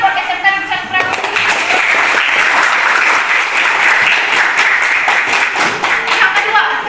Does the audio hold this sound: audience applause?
yes